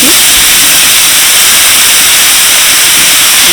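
Grated carrot, beetroot and chopped cabbage hit hot oil for a mixed veg tikka, giving a loud, steady, close sizzling hiss that holds without a break.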